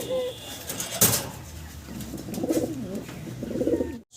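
Pigeons coo nearby in soft, rolling phrases, with a sharp click or rustle early on and several repeated coo sequences in the second half.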